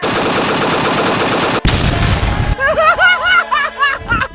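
Rapid bursts of loud gunfire rattle close by, a sharp bang breaks in, then shorter shots mix with high squealing cartoonish sounds.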